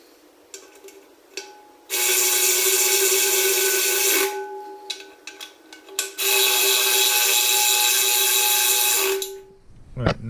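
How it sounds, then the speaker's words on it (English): A small battery-operated ratchet drives wheel lug bolts on a Hyundai Elantra N during a winter wheel swap, giving two long, loud, close whirring bursts with a steady high whine and brief clicks between them. "I used my little battery operated ratchet, just a couple of ugga-duggas"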